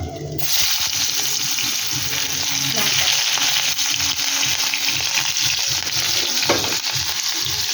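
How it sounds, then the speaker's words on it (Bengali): Onions frying in oil left over from frying katla fish, a loud continuous sizzle with rhythmic scraping of a spatula stirring the pan. "তুলে ফিরছি ওই তেলে পেঁয়াজ দিয়ে দেবো"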